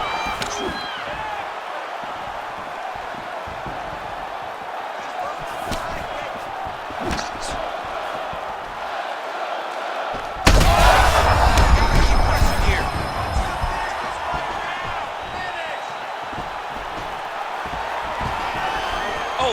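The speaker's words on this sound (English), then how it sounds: "you hear that crowd reaction every time he gets battered to the body" A video game UFC crowd roars and cheers suddenly and loudly after a heavy body punch, with murmuring crowd noise before and after.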